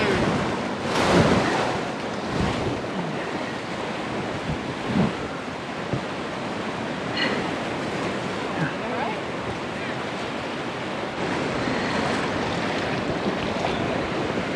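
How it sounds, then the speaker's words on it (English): Frothy whitewater rapids on the Upper Gauley roar continuously around a raft, a loud broadband rush with wind buffeting the microphone and occasional splashes, while voices call out faintly beneath the noise. "Look how crazy that frothy whitewater stuff"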